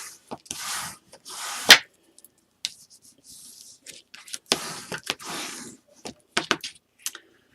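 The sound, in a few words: burnishing craft binding down by rubbing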